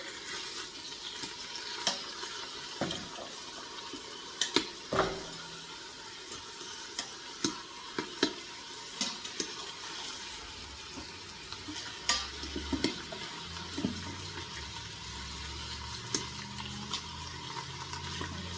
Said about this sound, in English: I'm just going to flip them all over and cook the other side.